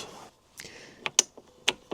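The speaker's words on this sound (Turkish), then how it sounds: "Tek çevirmeyle Buradan benzin kapağımızı açabiliyoruz." The fuel cap on a Yamaha NMAX 125 scooter opens with a turn, giving a few quick, close mechanical clicks and ratchet-like snaps, crisp and sharp in a quiet setting.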